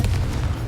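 A Confringo blast spell explodes in Hogwarts Legacy, a short heavy low boom with a rumbling body and brief crackle, loud and close, standing alone without talk.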